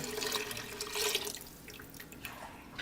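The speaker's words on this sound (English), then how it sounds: "going to add a mixture of chicken broth and milk. And the recipe calls for whole milk" Chicken broth and milk pour steadily into a pan with a soft splashing, trickling sound that fades slightly toward the end, close and fairly quiet.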